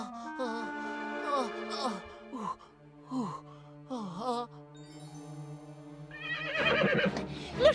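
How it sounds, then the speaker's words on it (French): A horse whinnies in a long, wavering neigh, followed by snorts and breathy sounds with some voices. "Le cheval."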